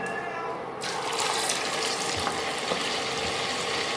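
Carrot and sesame gharya frying in hot oil give off a steady, dense sizzle that swells after a brief quieter start and stays close and continuous throughout.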